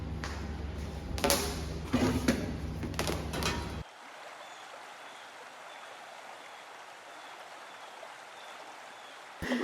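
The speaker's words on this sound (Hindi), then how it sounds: "अब मारते हैं इस पे साफ पानी। उसके लिए पाइप निकालना पड़ेगा।" Some handling thumps and knocks, then a steady close hiss of a garden hose spraying clean water over a dirty scooter after a soapy wash, running for several seconds.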